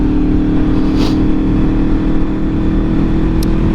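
Road traffic surrounds the listener, a steady close rumble of car engines with a brief whooshing pass, loud and continuous without speech.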